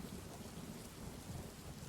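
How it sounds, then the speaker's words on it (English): A heavy thunderstorm, with steady dense rain roaring close and continuous while low rumbling thunder runs underneath for the whole stretch. "Is it called Heavy Thunderstorm Sounds?"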